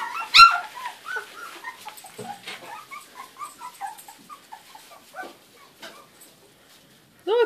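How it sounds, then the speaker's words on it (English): Small puppies whimper and yip in a rapid string of high, thin cries, close and fairly loud at the start, then tapering into softer whines with a brief louder cry at the end. "Look at puppies."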